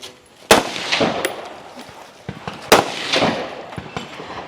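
Rifle shots crack on a women's tactical shooting competition stage at an Ohio regional match. Several loud, sharp reports ring out at irregular intervals, with a couple of fainter impacts and outdoor background noise between them.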